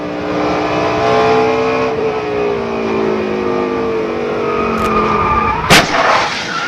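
Onboard sound from Greg Biffle's NASCAR race car at racing speed: a loud, steady engine drone with shifting pitch, then a sharp, heavy crash impact near the end.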